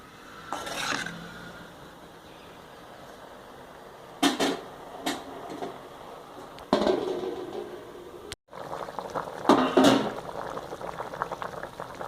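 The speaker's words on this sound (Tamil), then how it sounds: "இப்போ குழம்பு நல்லா சேர்ந்து கொதிச்சிருச்சு" Mango kuzhambu, a tamarind curry, bubbles in a pot, its low simmer broken by several sharp clinks and scrapes of a spoon stirring against the vessel, with quieter boiling between the bursts and no talk.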